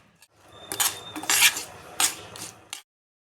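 Moong roasting in two spoonfuls of cow's ghee is stirred in a pan, giving a few close metallic scrapes and clinks over a couple of seconds before it stops.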